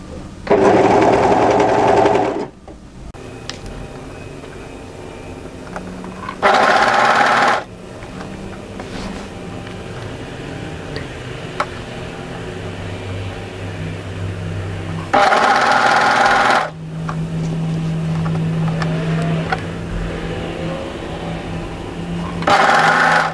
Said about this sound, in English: So after you've overlocked through that crown notch area